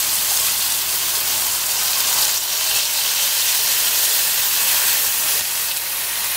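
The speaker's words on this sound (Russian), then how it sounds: "там уже хорошо жарится, я добавляю сливку туда" Shrimp fry in a pan as cream is poured in, producing a loud, even sizzle and hiss that holds steady throughout with no talking.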